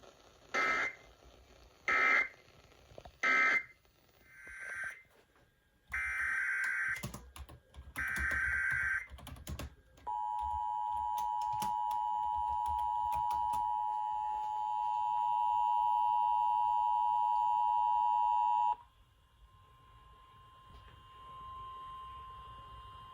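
Emergency Alert System monthly test: several bursts of harsh, buzzy two-tone attention signal, followed by a long steady high tone and then a fainter lower tone, clear and electronic.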